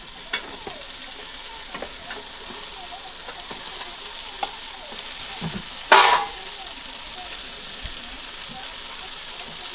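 Chicken for a fried-piece biryani sizzles in a pan while being stirred. A steady frying hiss runs under occasional scraping stirs, with one louder sizzling burst partway through.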